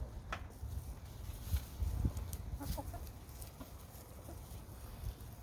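A white leghorn hen clucks in short, soft, scattered bursts close by, over quiet yard noise and faint pecking patter.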